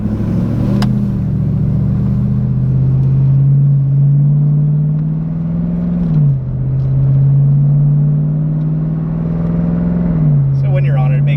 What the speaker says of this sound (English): when you're on it, it makes a little bit of noise, but you're like normal driving here, cruising, it's not bad at all